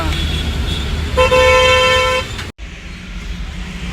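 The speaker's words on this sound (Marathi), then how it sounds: "ट्रॉफिक मजबूत आहे मला." Busy road traffic in Chinchwad with a car horn blaring in one sustained, loud blast over rumbling engines, then a brief gap before the traffic noise resumes.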